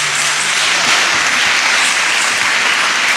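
Congregation at St. Anthony's Parish applauding during a Sunday Holy Mass, a loud, dense and steady roar of many hands clapping that fills the church without pause.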